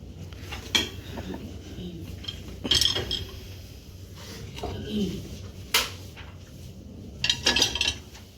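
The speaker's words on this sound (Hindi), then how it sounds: "ऐसे टिप करके ये हम ऐसे अपनी प्लेट्स को इसमें ऐड कर देंगे।" Plates clink and knock as they are tipped into the angled rack of an LG 14-place dishwasher, several sharp contacts spread across the clip, with a person speaking over them.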